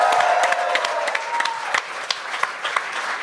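An audience at a comedy show applauds the comedians, a dense crowd clapping with scattered louder individual claps and some cheering, steady and fairly close throughout.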